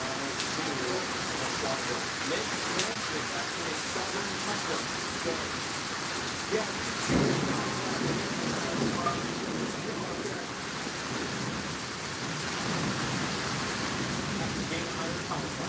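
Steady rain during a severe thunderstorm in Moore, Oklahoma, a dense continuous hiss of drops hitting surfaces, with a brief louder rumble or thump near the middle.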